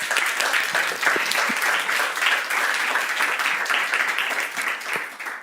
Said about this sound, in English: please join me in thanking our panels and our panelists, rather, sorry, with a round of applause